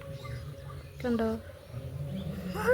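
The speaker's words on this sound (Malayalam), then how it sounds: "ആ കമ്പയെ തൊടുമ്പോൾ കുഞ്ഞുകിളി കരയുന്ന കണ്ടോണേ." A sparrow chick in its nest gives a brief, thin, rising cry when its twig is touched, followed by another short squeak near the end, over a low background murmur.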